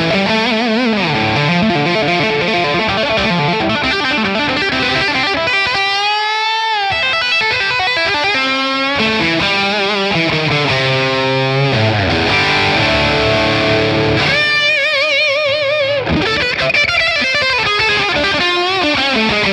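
A heavily distorted 80s-style electric guitar tone through a Friedman Plex DI with reverb, playing fast riffs, sliding bends and sustained chords, loud and continuous with brief gaps between phrases.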